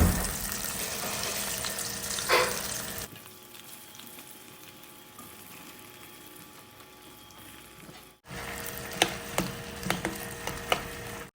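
Chicken feet dropped one by one into boiling oil, a loud hissing fry in bursts, cutting out midway to near quiet before the crackling sizzle returns with sharp pops.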